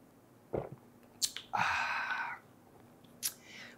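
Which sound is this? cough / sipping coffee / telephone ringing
sipping coffee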